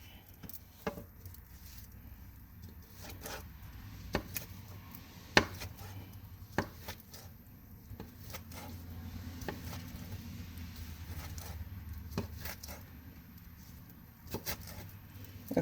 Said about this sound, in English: And so I'm slicing that up right quick while I'm waiting for the crust to parbake.